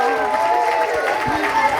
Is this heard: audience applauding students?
yes